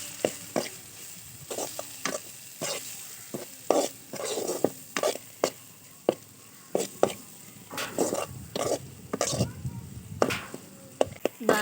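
Spoon stirring coriander powder and chili powder into okra (bhindi) fry in a pan, a series of sharp, irregular scrapes and knocks over a soft sizzle, fairly close.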